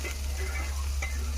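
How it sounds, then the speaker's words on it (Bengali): Fish is stirred in spiced oil in a pan, a soft sizzle with light spatula scrapes over a strong low steady hum, fairly faint overall. "আমি এইভাবে একটু নাড়াচাড়া করে নেব"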